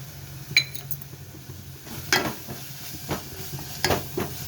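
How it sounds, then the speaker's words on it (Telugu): Curry being stirred as it fries in a pan for an old-fashioned home-style dish: a soft, steady sizzle with a few distinct spoon clinks and scrapes against the pan, and no voices. "బాగా కలుపుకోవాలి కలర్ మారే వరకు ఎర్రగా ఎగే వరకు ఉంచాలి బాగా ఎగనివ్వాలి"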